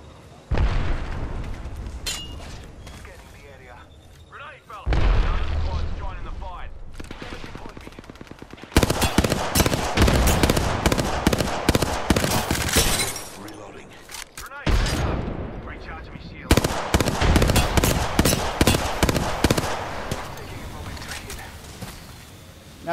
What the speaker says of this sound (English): Somebody shooting at us.